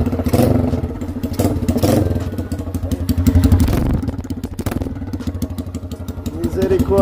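A 150cc motorcycle with an open straight-pipe exhaust idles loudly and close by, its rough, fast low-pitched pulsing steady throughout with small throttle swells, while people talk over it.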